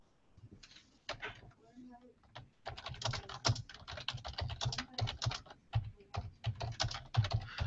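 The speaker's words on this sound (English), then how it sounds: "I'm typing in another poll real quick." Rapid clacking of fingers on a computer keyboard, close and continuous in uneven bursts, after a brief pause at the start.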